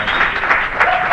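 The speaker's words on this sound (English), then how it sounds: "an appreciative crowd" Sustained applause from a tournament crowd after a pool trick shot, a dense steady wash of clapping filling the whole moment without pause.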